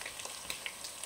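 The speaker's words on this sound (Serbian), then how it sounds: "18 minuta smo pržili na jakoj temperaturi našu junetinu" Chunks of beef searing over high heat in a pan produce a soft, steady sizzle with faint popping crackles scattered through it, with no one speaking.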